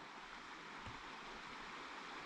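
A river far below in a valley ringed by mountains rushes in a faint, steady broadband wash, with no voices over it.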